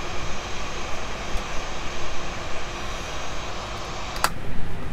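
A simulated FlightFactor A320 engine starts up in X-Plane 11, a steady whining aircraft engine hum with a low rumble that stays even throughout, joined by a brief click near the end.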